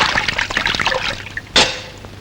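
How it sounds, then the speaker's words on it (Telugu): Water is poured into a vessel with a continuous splashing trickle, then one louder, sharper splash near the end. "ఇందులో నీళ్ళు పోయి."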